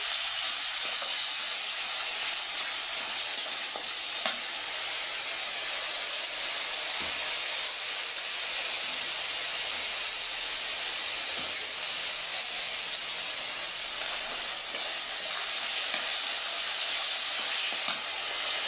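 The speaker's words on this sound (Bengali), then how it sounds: "এখন আমি মশলাটা কষাই" Ground spice paste fried and stirred in a hot pan with a bay leaf, giving a steady, close, continuous sizzle and hiss with faint scraping of the spoon and no voices.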